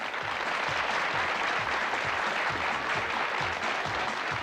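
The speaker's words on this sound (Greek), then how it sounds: "χειροκροτήστε τον κύριο" A Greek television studio audience from a 1995 show applauds steadily for a selected man, a dense, even wash of many hands clapping that carries on without a break.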